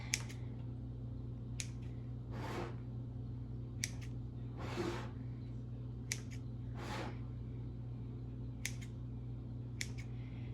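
The overhanging edge of a wild blueberry pie crust being trimmed: a handful of faint, sharp snips spaced a second or two apart over a steady low room hum, with no voices.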